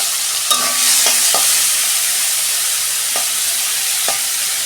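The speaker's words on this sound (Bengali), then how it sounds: "চিংড়ি মাছটা আমি ভেজে নেব" Shrimp frying in a hot wok, a loud, continuous hiss of oil with a few sharp utensil taps scattered through, no speech.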